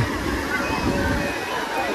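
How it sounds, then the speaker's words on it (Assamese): Sea waves washing onto the shore at Digha beach, with people bathing nearby; a steady, close wash of water and surf noise fills the whole stretch without a break. "চাওক, সাগৰত ঢৌ আহি আছে"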